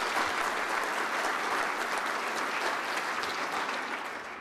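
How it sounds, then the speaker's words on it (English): A round of audience applause at a community task force presentation, dense continuous clapping from a room full of people, steady and fairly loud before fading toward the end. "Let's give Jared another round of applause."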